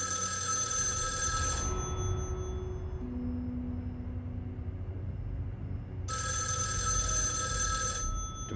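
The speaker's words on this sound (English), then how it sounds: "Or do we go to the phone that ominously rung at the same time?" An old-style telephone bell rings in the horror game Erica, two bursts of shrill ringing with a quiet gap between them, clear and alone over a low ambient hum.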